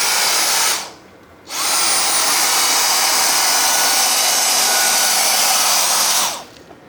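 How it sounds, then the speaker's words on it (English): Dyson DC31 Animal handheld vacuum cleaner running on stairs, a steady loud whirring drone that cuts out briefly near the start, then resumes and runs steadily before stopping at the end. "You're vacuuming the steps?"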